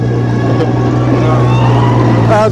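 A 2023-model car engine runs loud and steady at a Pakistani well-of-death stunt show, with a constant droning rumble throughout.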